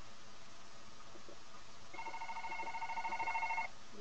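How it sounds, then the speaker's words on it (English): A phone rings inside the horror game One Late Night, its bright electronic tone pulsing in a quick repeated trill for about two seconds over a low, steady background hum. "Yeah, your phone's ringing."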